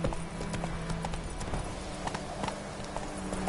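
Horse hooves clip-clop in a steady galloping rhythm in The Witcher 3, forming a constant drumming beat at moderate loudness.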